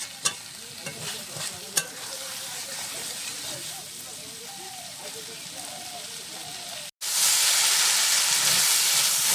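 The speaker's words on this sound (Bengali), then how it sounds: "নাড়াচাড়া করবো, জল তেল ছেড়ে দেবে কপির থেকে।" Cauliflower and potatoes frying in oil while being stirred, in a Bengali fish curry; a steady sizzle with stirring clicks, then after a brief pause a much louder, bright hissing sizzle.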